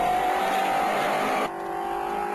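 A newly built Ford Escort Mark 2 rally car on a stage, its engine droning loud and steady, sounding slightly off and down on power, with the tone dropping abruptly partway through as it moves away.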